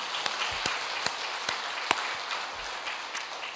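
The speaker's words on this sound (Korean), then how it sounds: "이제 사도행전 28장 마쳤으니까 박수 한번 쳐줄만 하잖아요" A church congregation at a Korean Sunday afternoon worship service claps together in a dense, even burst of applause, a few sharper individual claps standing out, heard fairly close and without speech.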